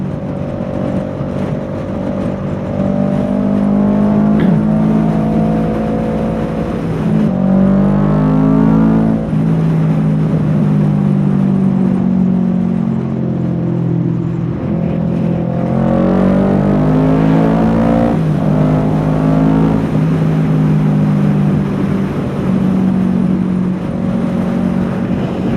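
Kawasaki Ninja 650L motorcycle, a 2017 model, riding with a steady engine drone whose pitch rises and falls through the gears, loud and continuous under heavy wind rush, with no talking.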